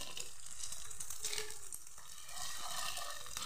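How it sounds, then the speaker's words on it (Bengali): Ingredients for chana dal with young jackfruit fry in a pan with a little salt, giving a constant near sizzle with soft scrapes and small clicks now and then. No one speaks. "একটু ভাজা ভাজা করে নিই।"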